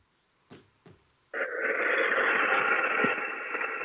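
A ghost box radio sweeps through stations: two short clicks, then a sudden continuous hiss of static that stays loud and steady to the end, close and without talk.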